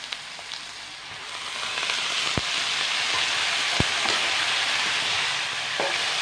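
Onions browned with masala and yogurt frying in a pan, a steady close sizzle and crackle throughout with a couple of sharp ticks from stirring or spattering.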